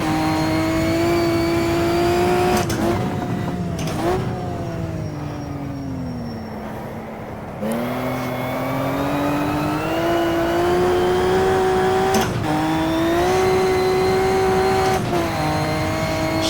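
A 1950s Maserati 250F race car engine on the throttle, loud and close, its raspy note climbing in pitch and dropping sharply at several gear changes before pulling again, with a short lull mid-run.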